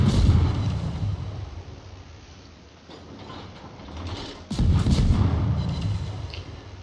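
Naval gunfire from the French destroyer Le Fantasque in a naval battle video game, heavy booming salvos with mechanical clatter, a loud blast near the start and another about two-thirds through.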